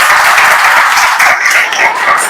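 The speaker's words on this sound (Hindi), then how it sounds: "इसके लिए तो ताली बनती भाई" Loud, dense applause from a crowd of students and teachers fills a room at a college farewell party for an environmental science department in Bareilly, continuous clapping throughout, close and energetic.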